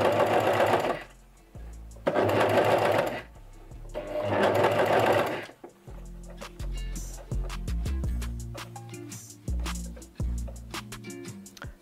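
A sewing machine runs in three bursts stitching a chain stitch, stopping briefly in between, and then gives way to a series of slower clicks and mechanical taps from the machine.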